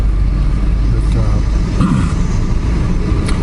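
A car creeps through Philippine traffic on a slight downhill while its clutch slips, with a steady, loud engine drone and road rumble throughout.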